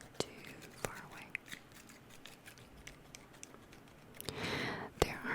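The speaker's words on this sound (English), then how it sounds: "These scissors sound from up close to far away." Sharp scissor snips close up, a handful of crisp clicks spaced irregularly, with soft whispery rustling in between and a busier burst near the end.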